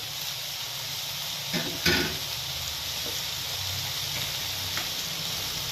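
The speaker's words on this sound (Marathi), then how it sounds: "आता हे कांदा आणि लसूण आणि टमॅटो छानपैकी आपल्याला फ्राय करून घ्यायचे आहे." Onion, garlic and tomato fry in a pan, making a steady broadband sizzle and hiss with a couple of brief stirring scrapes near the start, close and continuous throughout.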